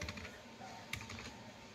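Fingers tap an Aadhaar number on a computer keyboard in quick, faint, uneven keystrokes.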